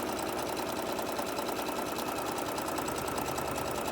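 Sewing machine stitching a small fabric tote bag, a rapid, even mechanical chatter running steadily at close range, with no voices over it.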